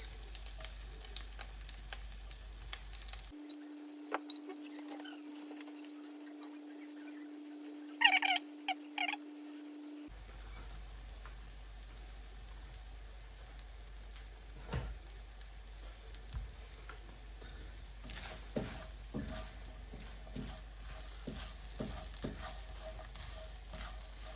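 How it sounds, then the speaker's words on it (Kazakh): Egg-soaked bread frying in a pan gives a steady, close, quiet sizzle that runs throughout, with a brief lull early on and no talking. "нанымызды қуырамыз."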